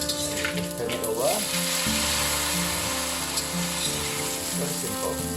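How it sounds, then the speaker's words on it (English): Rice vermicelli (mihun) deep frying in hot oil for Cantonese-style fried noodles gives a steady, close, continuous crackling sizzle that runs the whole way through, with occasional faint voice sounds in the background. "after the cooking oil is hot, we'll deep fry the mihun"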